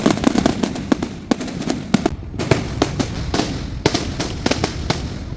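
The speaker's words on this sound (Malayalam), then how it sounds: "അവിടെ പടക്കം പൊട്ടാനുള്ള ടൈമായി" Firecrackers burst at a temple festival in rapid, irregular volleys, loud sharp cracks following one another with brief gaps, no voices.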